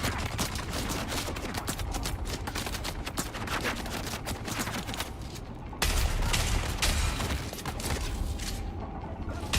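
Sustained rapid gunfire in an online shooter game, a dense, steady rattle of close shots running throughout with heavier bursts partway through.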